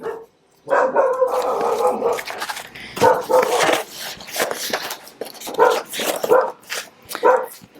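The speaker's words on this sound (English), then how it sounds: "I don't even know what you think you're barking at." A dog barks repeatedly and close by in a home, short sharp barks in irregular bursts, with some whimpering yips mixed in.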